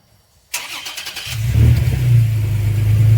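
A Toyota Tacoma fitted with a TRD cat-back exhaust cranks and fires up after a sharp onset, settling into a loud, deep, rumbling idle close to the listener, with no voices.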